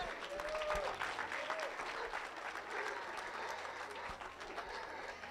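A crowd applauds at a 4-H market hog show at the Elbert County Fair: continuous, fairly distant clapping that holds steady for several seconds, with faint voices mixed in.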